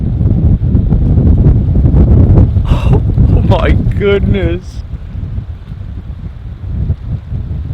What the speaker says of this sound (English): The wind just kicked up.